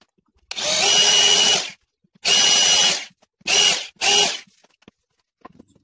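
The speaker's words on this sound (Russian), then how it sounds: "Чтобы в этих местах высверлить глухие отверстия диаметром 10 мм" A drill bores 10 mm blind holes into a wood panel for a toy box, heard as four separate whining bursts, the first longest, then two quicker ones close together, with short silences between and no talking.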